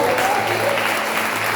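Church congregation applauding, a dense wash of clapping at steady loudness with a faint sung or held tone drifting underneath, brief and continuous throughout.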